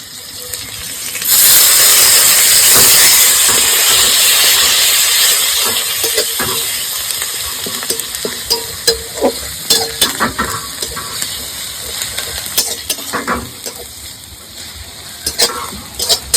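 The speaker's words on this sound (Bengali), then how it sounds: "দিয়ে দিচ্ছি পেঁয়াজ বাটা।" Onion paste hits hot oil in a pan while cooking sole fish kaliya, setting off a loud sizzle that fades over several seconds into a steady softer frying hiss, with scattered clicks of stirring.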